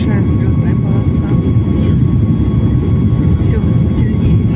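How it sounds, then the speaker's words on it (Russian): Airliner engines roar loudly during takeoff from Vancouver's airport, heard from a cabin seat right beside the engine: a powerful, sustained whine and rumble building steadily, with occasional muffled cabin voices beneath. "Сильнее загудели моторы."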